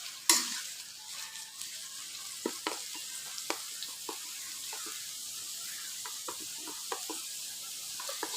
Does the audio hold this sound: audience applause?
no